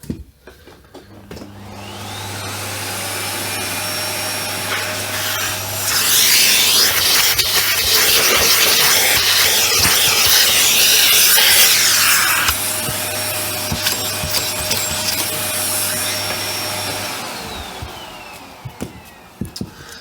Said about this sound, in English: I'm just going to see if I can vacuum that a bit cleaner.